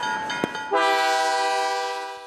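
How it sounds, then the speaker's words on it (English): A train carrying a giant watermelon down to the Muscatine riverfront sounds a loud, sustained horn after a brief click, the blast holding steady and slowly fading, with no talk. "the massive melon was taken by train down to Muscatine's riverfront"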